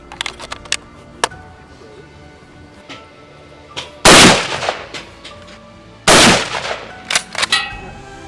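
Two loud, sharp gunshots ring out during a hunt, each followed by a decaying echo, amid scattered clicks and handling noises.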